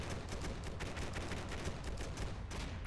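Sustained fire from a .50 cal machine gun and an automatic grenade launcher in the Combat Mission: Black Sea war game, a dense, fairly faint stream of rapid overlapping reports rattling evenly throughout with no pauses.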